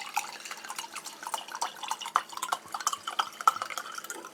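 Red wine (a Grenache) dripping while being poured in a kitchen, a run of quick irregular liquid drips and small splashes heard close, with no talk.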